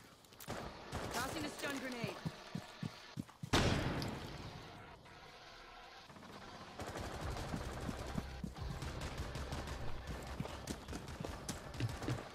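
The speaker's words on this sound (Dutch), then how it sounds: "Ik word geschoten." Rainbow Six Siege gunfire as the player takes hits: rapid rattling shots and impacts, a loud burst a few seconds in, continuing as dense clattering fire with game noise throughout.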